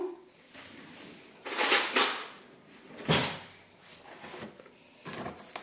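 Cabbage goes into a saucepan in a home kitchen on a scale, giving a rustling thump and some clattering handling noises, then a few lighter knocks, close by with no speech.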